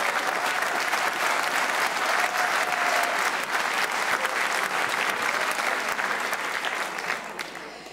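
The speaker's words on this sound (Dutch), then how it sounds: "Geef ze een groot applaus" A large audience at a dance-off applauds steadily and loudly for several seconds, a dense wash of clapping that begins to thin out at the very end.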